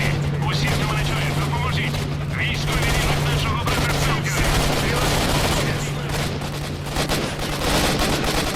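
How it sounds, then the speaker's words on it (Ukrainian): Sustained gunfire in S.T.A.L.K.E.R.: Shadow of Chernobyl, with continuous dense bursts from a machine gun in a chaotic firefight, loud throughout over a steady low hum, while a person talks over it. "Так, тут треба брати кулемет, бо обріз тут не того."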